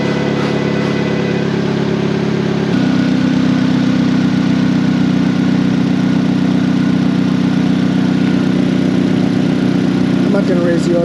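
A car engine idles at steady low RPM in an auto repair shop during a charging-system check, a loud, even hum that shifts slightly in tone partway through, with a person speaking over it.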